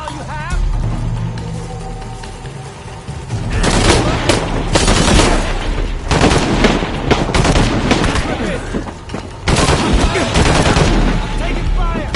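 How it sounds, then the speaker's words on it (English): Automatic gunfire and explosive bursts in the action game Shadow of the Tomb Raider, loud and close, coming in long rattling volleys that stop briefly and start again, with game voices talking over the combat. "Taking fire."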